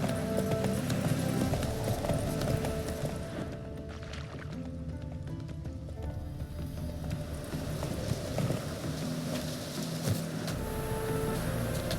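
Roach the horse in The Witcher 3 trots along with a steady clip-clop of hooves, continuous and fairly loud through the whole stretch over a background bed of game ambience.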